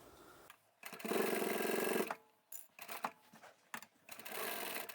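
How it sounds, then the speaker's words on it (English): A sewing machine stitches a fabric tablet pouch in bursts: a steady whirring run of about a second, a pause, then shorter choppy runs and another sustained stretch, close and fairly quiet. "Let's go and sew this up."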